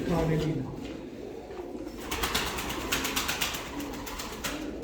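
Pigeons coo softly in a bird loft, with breathy rolling calls repeating under a steady bed of chatter and wing rustles, while someone talks nearby.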